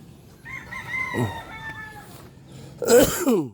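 A rooster crows nearby, its call rising and falling, followed by a burst of loud clucking and squawking from chickens.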